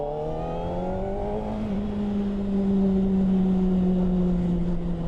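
A 2025 Honda CBR600RR motorcycle pulls away around town, its engine note rising steadily in pitch, then settling into a loud, sustained drone close by with no talking.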